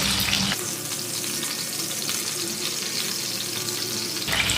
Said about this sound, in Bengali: একই রকমভাবে বাকি পিসগুলো ভেজে নেব।